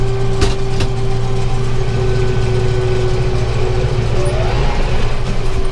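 A tractor engine drives a hay baler through the PTO at about 420 PTO RPM, making a loud, steady, low drone with a constant hum close by.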